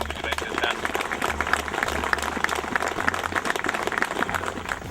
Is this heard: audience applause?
yes